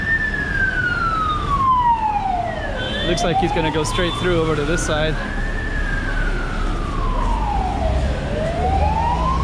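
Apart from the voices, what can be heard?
ambulance siren passing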